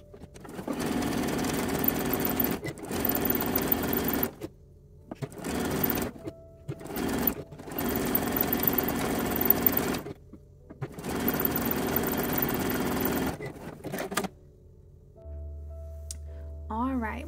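A sewing machine stitches a seam on a lined-cup lingerie teddy, running in several steady whirring bursts of a few seconds each, separated by brief pauses, before stopping near the end.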